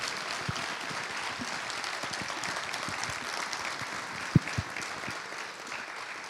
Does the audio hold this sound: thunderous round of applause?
yes